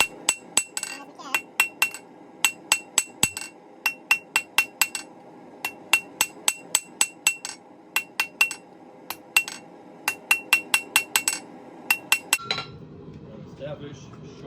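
A blacksmith hammers hot metal on an anvil to draw out a short taper, landing sharp ringing blows in quick irregular bursts close by before the striking stops near the end.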